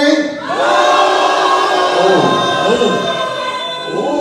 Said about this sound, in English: On three, I need to hear everybody boo.